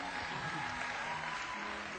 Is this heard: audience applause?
yes